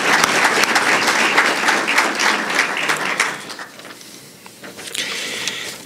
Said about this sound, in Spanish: pido un gran aplauso de reconocimiento